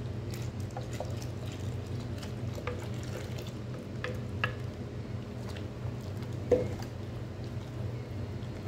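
Cornstarch is stirred into a creamy maja blanca mixture in a pot: soft, continuous scraping and squishing of a spoon through thick liquid, with a faint sizzle and a small knock near the end.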